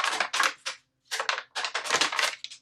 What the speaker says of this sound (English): I love doing water mediums because the paper sounds so nice after.